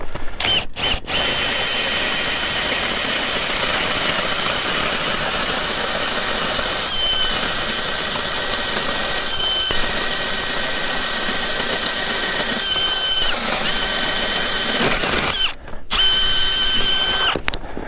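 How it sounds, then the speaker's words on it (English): A loud, continuous Jiffy Rogue 2.0 power ice auger drills steadily through lake ice for the whole stretch, with brief dips in pitch and a short stutter near the end. "So I'm just gonna drill here, see what we got for ice."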